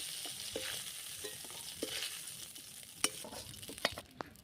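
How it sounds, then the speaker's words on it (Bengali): Fish frying in hot oil for a fish curry, a steady close sizzle broken by scraping clicks as a spatula stirs and lifts the pieces. "ওগুলো ভালো করে ভেজে নিয়েছি, এখন তুলে নিচ্ছি।"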